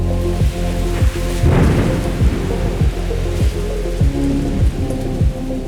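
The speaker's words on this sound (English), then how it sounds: "right into a lot of rain" Heavy rain pours steadily with a dense, hissing roar, joined by the low rumbling engine of a Triumph Tiger Sport 660 motorcycle on Michelin Road 5 tires, rising and falling in repeated pulses, in Maharashtra.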